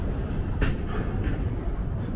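A New York City subway train rumbles steadily at close range, a dense low roar with faint metallic hiss and brief screeches riding on top.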